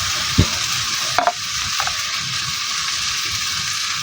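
Masala is stirred into fried tomato and onion in a pan for lentil-ball curry, a close steady sizzle with a few spoon scrapes and taps near the start, and no one speaking.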